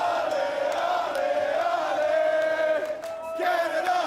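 Canadian soccer supporters, the Voyageurs, cheer and chant together in a crowd, a sustained wash of voices with rising whoops and a brief dip before the chanting swells again.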